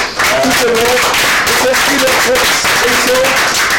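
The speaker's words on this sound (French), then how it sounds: "Vous pouvez vous applaudir parce que vous nous avez accompagnés." Studio audience applause closing a television culture programme: a dense, continuous wash of clapping throughout, with voices talking over it.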